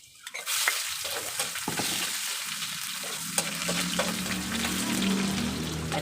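Onion and garlic frying in a hot pan, a dense continuous sizzle that flares up as ingredients land in the oil, with occasional clinks and stirring scrapes; nobody speaks.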